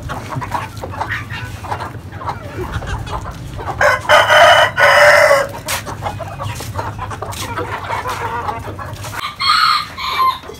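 Aseel hens and chickens cluck steadily at close range, with louder crowing bursts breaking through now and then over a constant farmyard murmur.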